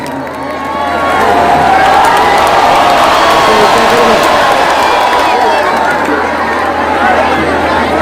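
Loud sustained applause mixed with cheering from a crowd at a mushaira poetry gathering, a dense, steady roar lasting throughout.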